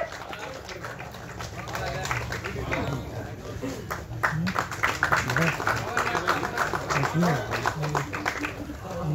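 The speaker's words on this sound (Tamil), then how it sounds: "ஒரு பெரிய கைத்தட்டல் கொடுத்துடலாம்" Audience applause for a newly appointed PRO at a Tamil film audio launch, scattered clapping spread through the hall beneath continuous speech and crowd murmur, steady and moderately loud throughout.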